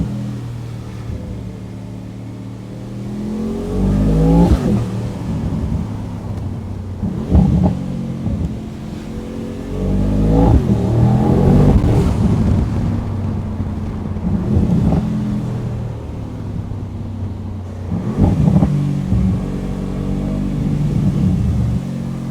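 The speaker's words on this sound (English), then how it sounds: "Right now we are driving on the Italian Autobahn." Mercedes AMG Mythos PureSpeed V8 car driving on the Italian Autobahn, a loud, close engine drone with repeated rising revs and gear changes, mixed with wind buffeting.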